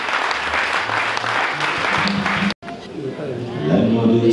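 A church congregation bursting into loud, sustained applause in acclamation of the Lord, mixed with voices. After a brief cut, music and singing follow.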